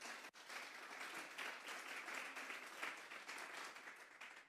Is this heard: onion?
no